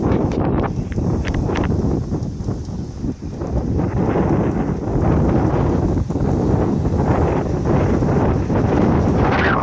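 Strong wind roars and buffets a microphone continuously, a dense rumbling gust that barely lets up across the whole stretch.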